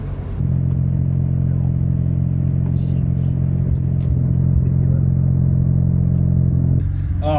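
The turbo rotary engine of a Mazda RX7 drones loudly and steadily from inside the car as it drives, holding an even rumbling tone with faint clatters before cutting off near the end.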